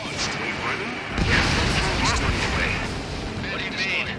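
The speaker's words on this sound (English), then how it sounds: "Missile launched." A missile launch in Ace Combat 7 roars amid the dense rumble of jet flight and combat, loud and continuous with brief whooshes, while radio voices talk over the action.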